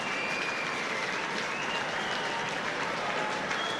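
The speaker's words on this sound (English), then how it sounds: "Applauds the crowd, as they should all do." Stadium crowd applauding steadily at a 2013 Rugby World Cup match between Ireland and Fiji, a dense, sustained wash of clapping that stays loud and even throughout with no clear voices.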